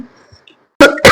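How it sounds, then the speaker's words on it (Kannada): Two sharp, loud coughs come close together, the burst of a woman coughing hard after a long stretch of talking indoors. "ಕೆಮ್ಮಿ ಕಣ್ಣಲ್ಲಿ ನೀರು ಬಂತು"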